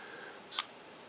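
A single short, crisp click from a Minox B miniature film camera's shutter release and film advance, close up against quiet background hiss.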